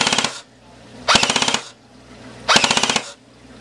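Close, crisp full-auto bursts from a Classic Army Sportline airsoft rifle on a 9.6 volt battery: three short strings of rapid, evenly spaced clacks separated by pauses, with a faint motor whir.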